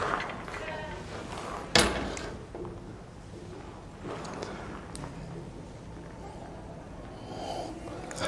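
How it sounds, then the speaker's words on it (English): A sharp nasal sniff at a whisky spirit sample drawn from a cask with a valinch, one quick intake standing out above a quiet room with soft background murmur. "we need to take a sniff"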